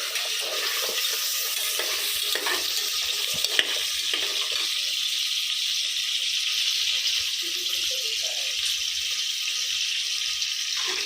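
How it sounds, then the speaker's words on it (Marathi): Mutton fat frying in oil inside a pressure cooker on a gas stove, giving a continuous bright hiss and sizzle that stays even for the whole stretch, close and moderately loud, with no voices. "कुकरमध्ये तेल टाकलं आहे आणि हे जे चरबी आहे हे कुकरमध्ये टाकून घ्यायचं आहे"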